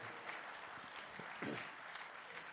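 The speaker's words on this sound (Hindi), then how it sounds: "इनके लिए ताली बजाएंगे आप लोग।" An audience at the R Bharat Sangam 2024 stage event claps steadily, a dense, continuous round of applause from a crowd at moderate distance.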